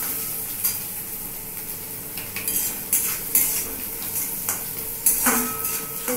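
Puffed rice being stirred in a kadai with lightly fried onion and green chilli, a steady dry rustling scrape punctuated by several sharper clinks of a spoon against the metal pan, close up with no voices.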